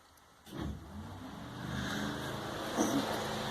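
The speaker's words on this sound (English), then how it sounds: "That's the MX-5 fan trying to fly away." An electric cooling fan on a Mazda MX-5 fitted with a straight-six engine, kicking in with a sudden whoosh and then spinning up into a steady, strengthening whir that holds to the end.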